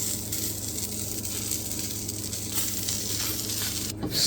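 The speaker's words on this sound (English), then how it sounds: "So listen to that sizzle for a bit." Food sizzles steadily in a hot pan, a continuous crackling hiss with a small clatter near the end.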